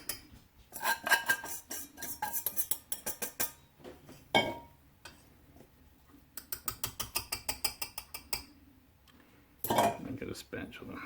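Spoon folding blueberries into a cornbread flour mixture, bursts of scraping and clinking against the bowl in rhythmic runs, separated by quieter pauses and a few sharp knocks, with no talking.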